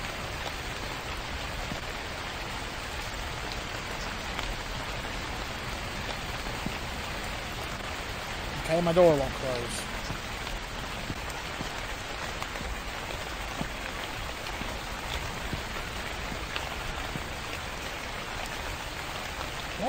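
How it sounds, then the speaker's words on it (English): Heavy rain in a horror video game pours steadily and loudly throughout, a dense hiss of drops, with a brief voice speaking midway. "Oh, that rain is loud."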